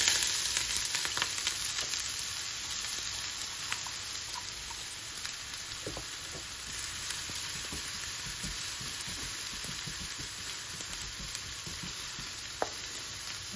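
Onion fries in a pan as the base for carbonara, giving a continuous close hiss and crackle with occasional stirring scrapes and pops, steady throughout with no speech.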